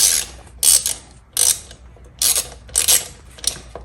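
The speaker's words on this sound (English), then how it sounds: "you're gonna get your 10mm right here, and you're gonna come down to this bolt right here. You're just gonna loosen it." A 10mm ratchet loosening a bolt on a 2009-16 Suzuki GSX-R1000 sport bike: loud, close bursts of rapid clicking pawl teeth, repeated in about six short strokes with brief pauses between them.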